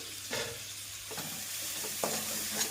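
Gongura curry stirred in a sizzling pan, a few distinct scrapes of the spoon over a soft, steady frying hiss, close by and with no talk.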